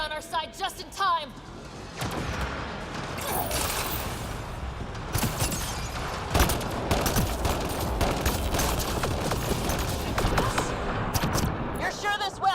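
A turret in Mass Effect Andromeda fires in sustained rapid bursts of loud gunfire mixed with combat noise, after an opening stretch of voices that keep talking under the shooting.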